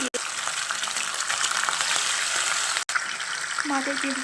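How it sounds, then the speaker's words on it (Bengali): Katla fish pieces fry in mustard oil with a steady, loud broadband sizzle and crackle that continues for the whole stretch, with a brief break partway through and some faint clatter near the end. "সরষের তেল দিয়ে আমি মাছটা ভেজে নেব।"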